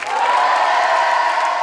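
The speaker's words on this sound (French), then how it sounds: "Applaudissez-moi encore Sofiane Soch, s'il vous plaît, applaudissez-le." Studio audience at a French comedy talk show breaking into loud, sustained applause with cheers and whoops, a dense steady wall of clapping close up and held throughout.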